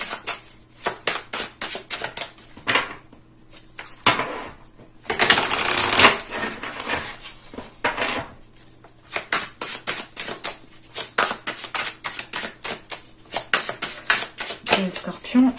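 Tarot cards being shuffled and dealt out, giving a run of quick, close papery riffles and flicks that rise into a dense burst of shuffling midway, with a few soft card slaps and pauses.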